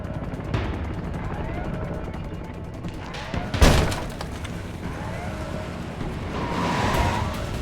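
Gunfire in the Homefront video game, a dense battle bed with a loud burst of shots near the middle over continuous rumbling, vehicle-like noise and scattered distant cracks.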